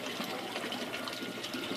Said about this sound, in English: it's pumping water up into our dump barrel,